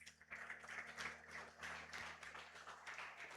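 A church congregation claps together, the applause steady and sustained at moderate distance, with a low hum running underneath and no talk over it.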